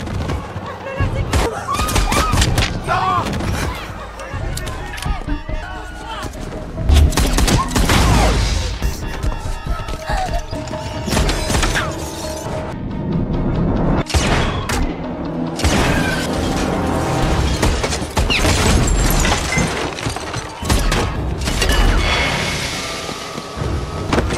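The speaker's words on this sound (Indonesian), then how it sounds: "mendengar adanya suara tembakan" Bursts of gunfire and booming impacts crash repeatedly amid a loud, chaotic action-film soundtrack, with shouting voices mixed in.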